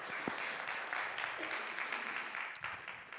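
A church congregation claps for a group of singers: dense, steady applause from many hands fills the room at moderate level, with a few louder individual claps standing out before it begins to thin toward the end.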